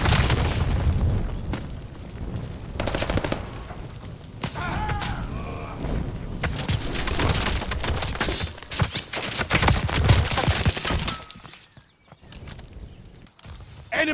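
Rapid bursts of gunfire and booming explosions from a Call of Duty Vanguard Hardpoint match, dense and continuous with overlapping shots, briefly thinning near the end, with a game announcer voice faintly in the mix.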